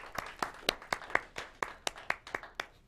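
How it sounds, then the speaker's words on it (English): Sparse hand claps from a small audience at a local evening show in El Monte, California, about a dozen separate sharp claps in an uneven rhythm, fairly close and moderately loud, with no talking. "Yeah, round of applause."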